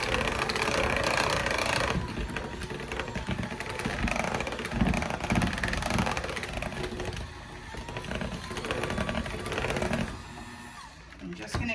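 An electric mixer beats cheesecake batter with a steady, whirring motor drone that runs almost unbroken. It eases slightly near the end.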